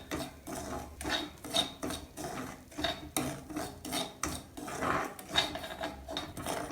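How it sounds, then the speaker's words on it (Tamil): A spoon rhythmically scraping and stirring semolina (rava) as it roasts in ghee in a metal pan, repeated close rasping strokes with no talk. "இந்த நெய்யிலேயே ரவையை கொட்டி அப்படியே வறுக்க போகிறோம்."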